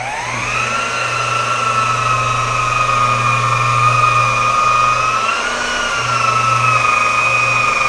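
A Mirka polisher spins steadily at 1500 rpm on a car's paintwork, a loud continuous whine with a slight pitch shift midway and a low motor hum underneath, running alone without talk.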